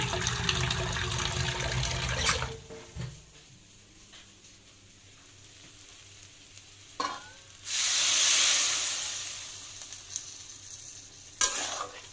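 A little water is poured into a hot pan of frying potato and soybean, bursting into a loud hissing sizzle that fades slowly after quieter stirring and clinks.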